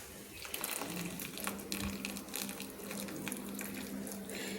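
Boiled veg chowmein noodles are strained into a basket, with a steady close rush of draining water and a low hum underneath.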